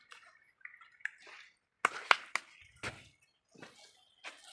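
Water trickles and drips in short bursts into dry plant soil, with a few wet splashes and soft squelches close by, no talking.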